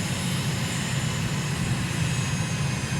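A steady, loud drone of an aircraft engine holds without pause on the approach to land on runway 29 in Tonga, all within a flight simulator game, and no one speaks over it.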